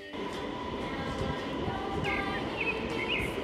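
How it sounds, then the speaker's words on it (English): A passing train rumbling steadily with a dense, broad roar, bright squealing tones from wheels or brakes, and a few faint bird calls. "T for train."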